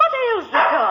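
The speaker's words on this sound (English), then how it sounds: "What ails the dog?" A dog barks excitedly in a 1947 radio drama, a sharp bark followed by a whimpering, falling yelp and then a louder burst, close to the microphone in a short, lively outburst.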